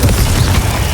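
Confringo blast spell going off in Hogwarts Legacy, a loud, dense explosive roar with heavy low rumble that sustains at full strength for about a second, no voices over it.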